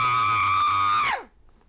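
A single long scream at full voice, held at a steady high pitch and then dropping sharply as it cuts off, loud and close, followed by near silence.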